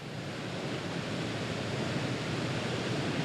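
Bridal Veil Fall in Yosemite, a free-leaping waterfall dropping 620 feet, roars as a steady broadband rush of falling water, dense and unbroken with no other sounds.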